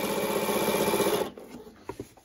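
Sewing machine stitching a quilt border: a steady, fast mechanical whir for just over a second, then stopping, followed by a few light handling clicks.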